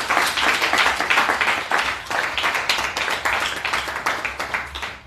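A church congregation bursts into applause and cheering for Jesus, dense sustained clapping with voices mixed in, loud and steady throughout.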